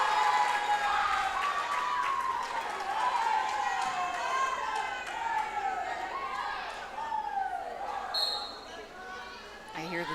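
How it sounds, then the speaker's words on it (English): Indoor crowd noise at a varsity volleyball match between Christian school teams, with broad cheering and chatter echoing through a gym, squeaks and a bounce-like thump now and then, steady and loud across the whole stretch under light talk. "I hear the cheering now."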